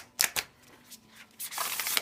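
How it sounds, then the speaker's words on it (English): A small group of card-stock playing cards shuffled by hand, two quick snaps followed by a longer riffling burst, close and fairly quiet with no talk. "I found that I could kind of shuffle small groups of them, but not really."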